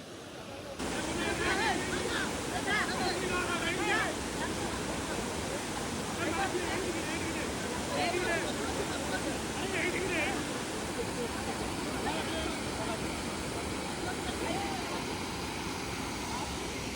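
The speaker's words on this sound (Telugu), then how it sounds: "ఇదే పొల్లూరు వాటర్ ఫాల్స్." Polluru waterfalls roar as a broad, steady rush of falling water, loud and continuous, while someone speaks over it.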